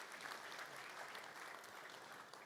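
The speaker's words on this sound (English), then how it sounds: "Let's give the GCE another round of applause." Applause from an audience at the NIES 2025 opening ceremony, a steady wash of clapping that holds evenly throughout at a moderate, slightly distant level, with no voices above it.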